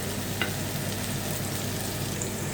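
Onions frying in a pan are stirred for an ampalaya with egg dish, giving a steady close sizzle with light scraping, continuous and without talk.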